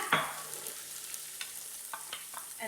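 Onions sautéing in a pot for beef stew, a quiet even sizzle broken by a few light scraping stirs, close by and without talk.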